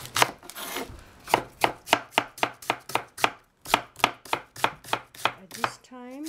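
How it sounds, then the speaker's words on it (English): A knife chops cabbage on a board in crisp, regular strokes, about two per second, close and clear with a brief pause midway and no talking. "you clean it, the cabbage, and then cut it"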